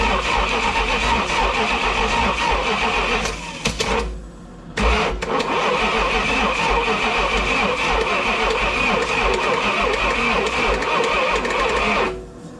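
A Dodge 400 engine cranks over on the starter in a loud, continuous churning drone, stops briefly, then cranks again for a long stretch before cutting off near the end.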